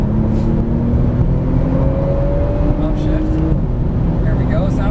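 A sports car's engine driving hard on a race track, a loud steady drone with rising pitch sweeps as it upshifts through the gears, heard from inside the car over constant road and wind roar.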